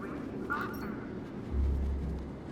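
Quacking call of a large duck-like bird in the video game Beyond a Steel Sky, one short nasal burst near the middle over steady low game ambience and a heavy rumble toward the end.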